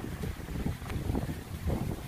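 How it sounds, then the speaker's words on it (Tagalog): Strong wind gusting through coconut palm fronds outdoors, a steady rushing roar with rustling surges, close and loud, no talking. "lakas ng ang hangin nagagalawan yung mga dahon"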